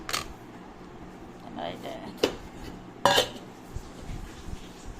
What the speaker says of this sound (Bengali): আর একটা চামচ দাও তো একটুখানি শিম পাতুরিটা তুলি